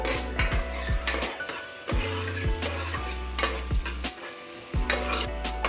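Onions fry in hot oil for Bengaluru-style nati mutton sambar, a close crackling sizzle broken by repeated scraping strokes of a spoon against the pan in an irregular rhythm.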